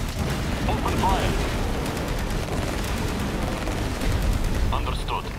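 Continuous battle gunfire and explosions in the real-time strategy game Tempest Rising, a dense steady rumble of shots and booms, with voices talking over it.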